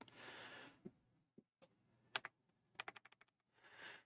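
Short bursts and single taps of keystrokes on a Glorious computer keyboard, quiet and close, with brief pauses between flurries of typing against a soft background hiss.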